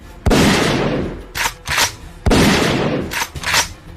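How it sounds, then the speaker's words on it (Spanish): Two loud shotgun blasts, each a sharp crack with a long ringing decay, spaced about two seconds apart, with shorter metallic clacks of the shotgun being worked after each shot. "pude esquivar milagrosamente los 2 disparos"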